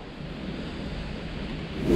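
Steady wind rushes past at a city-centre fishing spot, a broad low roar that swells slightly toward the end.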